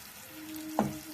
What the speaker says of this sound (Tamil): அப்படியே எண்ணெயில் வதக்கிடலாம்